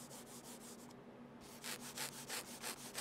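A fingertip scratches and rubs across the plastic shell of a budget gaming mouse, held close, in a quiet pause followed by a series of rhythmic, gritty strokes.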